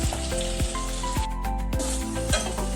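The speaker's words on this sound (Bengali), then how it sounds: "চিংড়ি মাছটা প্রথমে ভালো করে ভেজে নেবেন।" Shrimp fry in a pan with a loud, continuous sizzle, punctuated by regular clinks and scrapes of stirring about twice a second, with no talking.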